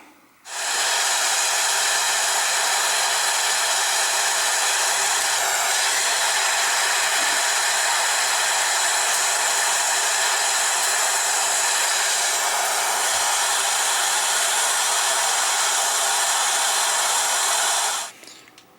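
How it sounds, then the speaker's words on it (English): A small torch heats the plastic of a pickup's fuel filler neck, making a loud, continuous roaring hiss that starts abruptly, holds steady for about seventeen seconds, then cuts off. "You just take a little torch and heat this up, and you'll watch this stuff come out."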